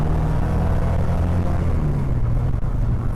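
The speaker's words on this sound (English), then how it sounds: "Here's second gear." A 1963 Alfa Romeo Giulietta T.I. pulls in second gear, its engine a steady low droning rumble heard from inside the car, fairly loud and continuous without talk.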